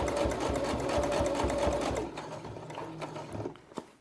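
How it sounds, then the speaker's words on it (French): A sewing machine stitches around felt pieces for a felt quiet book, sewing about 2 mm from the edge. It runs in a fast, steady whir for about two seconds, then stops, followed by quieter handling sounds. "je vais venir coudre les pièces tout autour"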